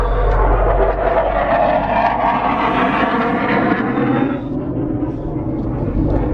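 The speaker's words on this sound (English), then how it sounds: "If you're wondering what all the planes are for, there's a base near here and they're always flying over" A low, steady roar of a military airplane from a nearby base passing overhead, loud at first and slowly fading as it moves away.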